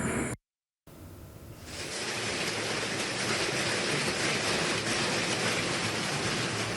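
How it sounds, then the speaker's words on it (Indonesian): Pebble-sized hail pours down on the slopes of Mount Merapi near Desa Paten, Dukun, starting as a soft hiss after a brief dropout and swelling into a loud, steady, dense roar of pelting ice that continues to the end. "hujan es sebesar kerikil berjatuhan dari langit"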